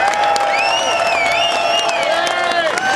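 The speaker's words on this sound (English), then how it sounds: "please, if you could give a warm applause for Eileen right here." Rally crowd at a Close The Border rally in Boston, Massachusetts, applauding and cheering with whoops and raised voices, a steady, loud wash of noise throughout.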